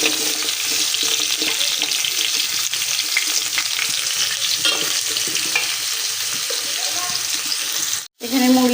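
Food frying in a pan, a loud, steady close sizzle with occasional stirring clicks, cutting out briefly near the end before resuming.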